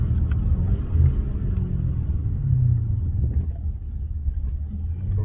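BMW 650i with a 4.4 V8 twin turbo rumbles at low revs while downshifting to second for a speed bump, a steady close-up engine drone with slight surges and no talk.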